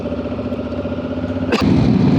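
A Honda Africa Twin motorcycle rides on the road, its engine rumbling low and close with steady wind buffeting, then a sharp burst of noise and a louder roar near the end.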